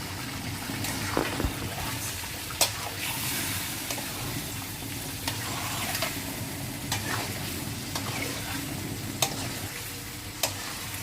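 Chicken curry sautés in a pan, a constant moderate sizzle and bubbling broken by regular clinks and scrapes of a spatula, with no voices.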